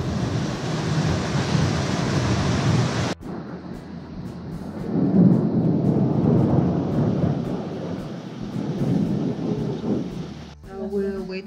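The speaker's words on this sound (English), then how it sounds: "it's raining outside now" Heavy rain pours down outside a trekking lodge in Nepal's Annapurna region, a steady loud wash of noise with a sharp break partway and a short voice at the end.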